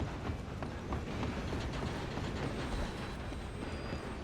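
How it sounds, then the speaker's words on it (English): A steam-era train in Red Dead Redemption 2 runs along the tracks, a loud, continuous rumble with steady rhythmic wheel clatter and metallic clanking, close and unbroken. "I'm gonna ride ahead and stop the train."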